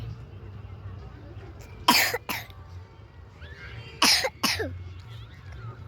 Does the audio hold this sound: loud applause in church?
no